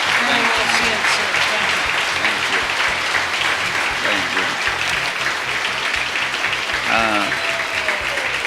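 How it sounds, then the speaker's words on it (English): A room full of people claps steadily through a round of applause at a company's golden anniversary event, the dense clapping continuous from start to finish, with a voice briefly heard over it. "Give them a round of applause."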